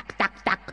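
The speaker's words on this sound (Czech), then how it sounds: "Po pěšině pochodovala kachna s káčaty." A duck gives two quick nasal quacks, close and moderately quiet, with faint softer calls around them.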